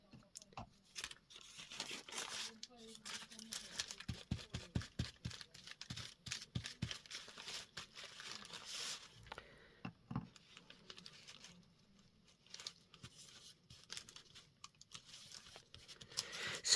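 Scraps of tissue paper torn and handled up close, giving irregular papery rips, crinkles and rustling bursts with quiet gaps, no talking.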